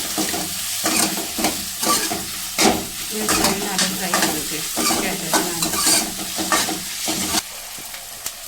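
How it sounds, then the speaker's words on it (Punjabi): Crushed green chillies are stirred into onions frying in a pan for a ridge gourd curry: loud, rhythmic spatula scrapes and knocks repeat about once a second over a continuous sizzle. "ਉਸੇ ਨਾਲ ਹੀ ਹਰੀ ਮਿਰਚ ਵੀ ਪਾ ਦਾਂਗੇ ਜਿਹੜੀ ਕੁੱਟੀ ਸੀ ਉਹਨਾਂ ਨੂੰ ਮਿਕਸ ਕਰ ਲਾਂਗੇ"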